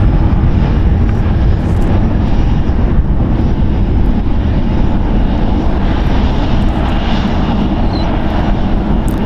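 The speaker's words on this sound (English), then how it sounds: "Just as quickly as that 757 departed." A Boeing 757 departs San Francisco International Airport with a loud, sustained, close jet engine roar that holds steady throughout, with no voices heard.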